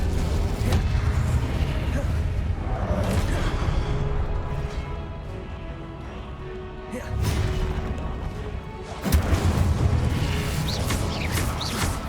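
Incendio fire spell being cast repeatedly in the Hogwarts Legacy video game, bursts of whooshing flame and impacts over a loud, dense game soundscape, with a sharp burst near the end.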